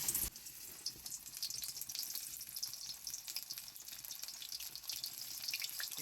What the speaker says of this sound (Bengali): এবার একে একে পটল আমি ভেজে নেব।